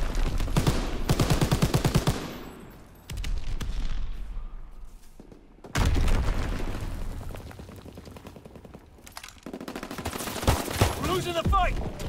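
MG42 machine gun in Call of Duty WW2 rips off fast, loud bursts of rapid fire, pausing and resuming in long strings alongside heavy blasts, while someone talks over the gunfire.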